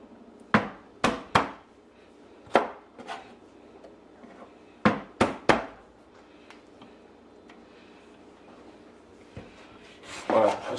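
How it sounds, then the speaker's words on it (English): A knife knocks against a cutting board in sharp, spaced taps while trimming the blemished ends and stems off garlic cloves for hummus, a few quick chops in two clusters, close and fairly loud. "Just gonna trim off the sort of blemish ends and the stem."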